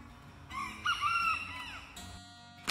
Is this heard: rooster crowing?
yes